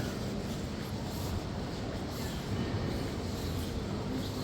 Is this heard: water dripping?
no